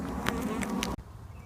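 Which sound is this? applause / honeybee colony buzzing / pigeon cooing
honeybee colony buzzing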